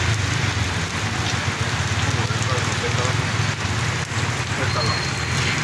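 Steady rain falling, a dense continuous patter on surfaces close by, with a low hum underneath throughout.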